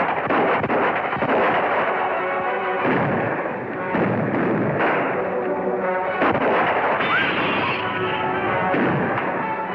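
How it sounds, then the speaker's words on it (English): Gunshots fired over a crowd's heads in a 1937 film, a dense, loud barrage of overlapping blasts and booms filling the whole stretch with no pause. "Shoot over our heads first."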